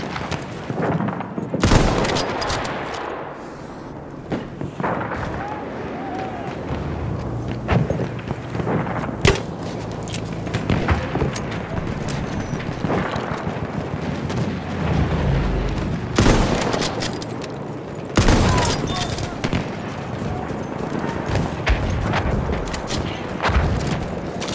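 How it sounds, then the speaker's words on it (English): Automatic machine gun bursts and scattered gunfire in the World War I shooter Battlefield 1, loud and near, with sharp repeated cracks and booms across a busy battlefield. "Machine gun!"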